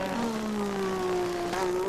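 1985 Formula One turbo race cars overtaking back markers: a steady, high engine whine whose pitch slides gradually downward as the cars pass, sustained and fairly loud, with no talk.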